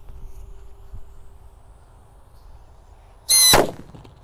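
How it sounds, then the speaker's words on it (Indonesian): A Slinking Thunder firecracker goes off after faint rustling and quiet handling. It lets out one sharp, loud hissing burst of crackling that lasts about a quarter second, then fades quickly. "Lanjut di sini ada mercon W Slinking Thunder guys. Kita nyalakan."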